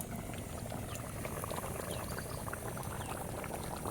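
A pot of vegetable curry boiling on an outdoor cooking fire at a jungle picnic, with a steady, close bubbling and gurgling and no voices.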